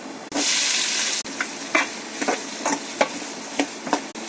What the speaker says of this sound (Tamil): போட்டு நல்லா வதக்குங்க. வெங்காயம் நல்லா வதங்கட்டும்.